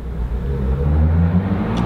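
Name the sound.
motorcycle engine revving while warming up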